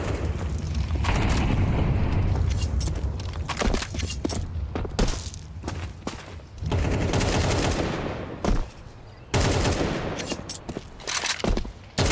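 AK-47 rifle fire in Counter-Strike during a professional StarLadder Budapest Major 2025 match, loud dense bursts of rapid gunshots with booming impacts and short pauses between volleys.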